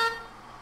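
A single short car horn honk in a video game, bright and tonal, cutting off quickly and fading into quiet.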